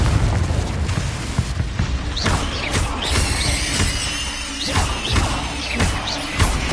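Incendio and Confringo spell blasts in Hogwarts Legacy land as a rapid series of loud crashing impacts and whooshes, with fiery bursts and thuds that come close together without speech.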